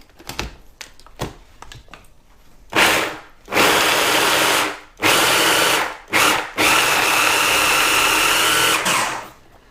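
A food mixer grinds falafel batter ingredients in a series of loud motor bursts: a few short whirring pulses separated by pauses, then one long continuous grind near the end, with light clatter at the start.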